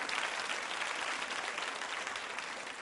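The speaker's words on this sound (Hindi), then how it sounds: "तालियां जोरों से बजाइए उन सभी के सम्मान में आप।" Dense, steady audience applause at a tourism-themed quiz show, a continuous wash of many hands clapping that holds evenly loud for the whole stretch without any voices over it.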